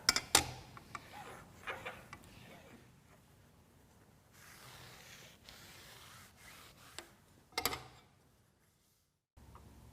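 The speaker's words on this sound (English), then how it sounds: "I rub a small block of paraffin wax over my fence face and the saw table" A small block of paraffin wax is rubbed over a table saw's fence face and cast table, giving faint, intermittent scraping strokes with a few sharper scuffs and quiet gaps between.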